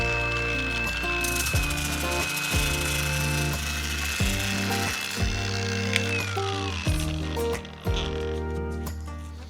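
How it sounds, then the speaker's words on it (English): Random orbital sander working over a scratched metal car bumper, a steady loud mechanical whir with a high whine, punctuated by repeated knocks and shifts in pitch as the pad moves across the surface. "Now, the random orbital is going to make things go a little bit faster for me"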